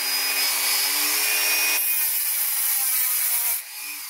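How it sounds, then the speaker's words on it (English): A Dremel rotary tool with a cutting wheel scores a plastic blaster lever, giving a steady, close, high-pitched whining grind that runs continuously and drops off right at the end. "I just scored it with a Dremel"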